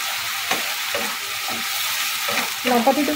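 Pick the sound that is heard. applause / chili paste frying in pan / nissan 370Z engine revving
chili paste frying in pan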